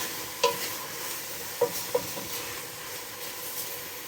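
Minced beef and chopped broccoli sizzle in a frying pan with a soft steady crackle, broken by a few sharp clacks of a utensil stirring against the pan, quiet and close, with no talking.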